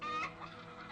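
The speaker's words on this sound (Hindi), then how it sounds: "मुर्गियों का फार्म खोलूंगा" Chickens cluck briefly in a short, close burst of hen-like clucks, moderately loud with no talking over them.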